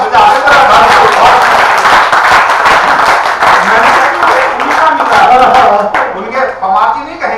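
Audience clapping in dense, sustained applause at a Hindi comic poetry gathering (hasya kavi sammelan), loud and close throughout, tapering slightly near the end with a voice heard over it.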